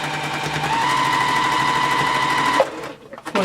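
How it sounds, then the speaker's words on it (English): A sewing machine runs continuously stitching a straight quilt seam, a steady close mechanical whir that stops abruptly near the end, followed by a few faint clicks and handling noises. "I'm going to sew all the way straight"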